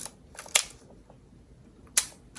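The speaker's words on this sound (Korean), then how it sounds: "필름이 없기 때문에 이렇게 소리를 들어볼 수 있는데, 이게 되게 오래된 필름 카메라라" Shutter of an old film camera fired with no film loaded, giving sharp mechanical clicks: one near the start and a quick pair of snaps near the end, close and crisp with quiet gaps between.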